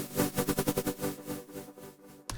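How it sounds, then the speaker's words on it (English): A synth line with a warm ping-pong tape echo that bounces side to side and fades over a couple of seconds, ending in a short sharp hit. "This type of sound is like warm delay effect."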